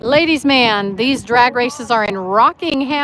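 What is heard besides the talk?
No everyday noises stand out.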